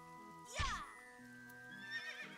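A horse whinnies once inside the video game AI: The Somnium Files, a loud, sharp neigh that falls away into a long trailing tone, set against steady background game music.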